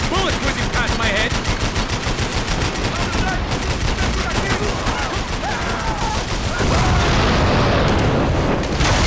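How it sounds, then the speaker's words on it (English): Rapid gunfire with bullets whizzing past during a firefight in the video game Max Payne 3, loud and nearly continuous bursts of shots and booms throughout, with background voices mixed in. "I can't concentrate. Bullets whizzing past my head."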